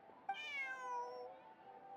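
Bonnie the cat meows in Genshin Impact, one clear drawn-out meow that rises and then slowly trails off, fairly quiet and alone.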